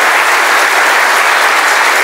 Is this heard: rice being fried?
no